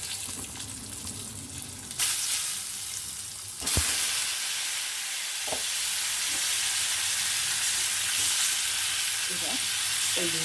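Eggs frying in a pan with chili powder and turmeric for an Afghan egg curry, a steady close sizzle and hiss throughout with a few soft stirring knocks and no talking.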